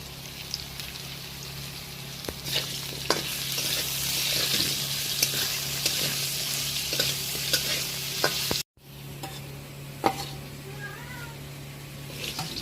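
Potato pieces frying in oil with salt and turmeric, a loud, close, steady sizzle with frequent clicking stirs, cutting out briefly before the frying resumes more quietly.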